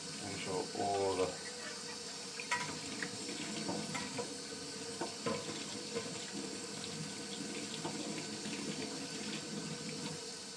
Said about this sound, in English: I've finished rinsing off my trumpet